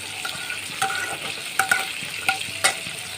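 Peanuts and a dried red chili fry in hot oil in a wok, giving a steady close sizzle broken by sharp scraping clicks and clatters as they are stirred about.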